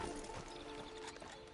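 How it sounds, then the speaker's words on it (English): Horse hooves clip-clop steadily in Red Dead Redemption 2, a rhythmic run of close, moderately loud hoof strikes over constant game ambience with no talk. "Get on the horse there."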